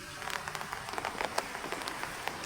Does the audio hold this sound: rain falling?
yes